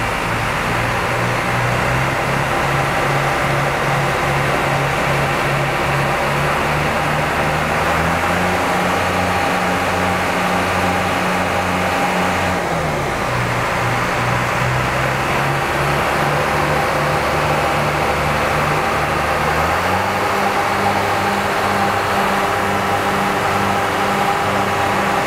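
Tour bus engine idling steadily during a test in a coach company garage, a continuous low droning hum with slight pitch shifts as the revs change, heard alone without talk.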